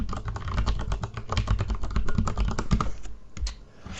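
Rapid typing on a computer keyboard while signing in to a Minecraft account, a close, steady run of clicking keystrokes that slows near the end.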